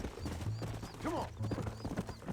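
Horse hooves clip-clop in Red Dead Redemption, a steady close gait of repeated hoof strikes with a brief whinny-like call mixed in.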